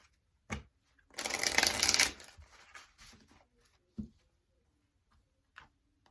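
Oracle cards shuffled by hand during a tarot-style reading: a loud riffling burst lasting about a second, then softer card handling with a few light taps, no talking.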